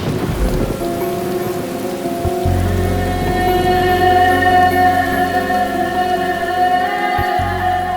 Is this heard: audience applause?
no